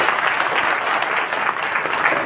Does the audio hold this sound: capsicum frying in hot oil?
no